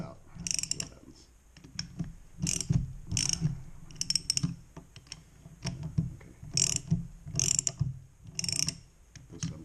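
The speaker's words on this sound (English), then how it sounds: "So let's get the wrench on here." Ratchet wrench clicking in short repeated bursts while working the crankshaft nut on a Stihl BR600 4-mix leaf blower with a failed crank bearing, close and fairly quiet, with metallic handling sounds between bursts.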